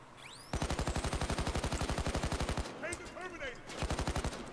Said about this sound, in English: can we shoot this lock?